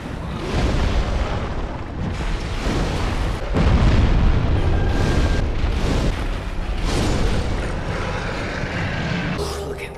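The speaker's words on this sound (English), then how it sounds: "So I have to pull out the Fireball and Combustion at the end of the day." Fireball and Combustion spells detonate in the game Dark Souls, a dense run of loud, rumbling booms and fiery bursts that roll into one another over a constant low roar.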